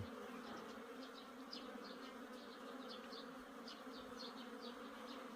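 Korean native honeybees swarm during a hive capture, a dense, continuous buzzing drone close by with individual bees zipping past in brief rising whines.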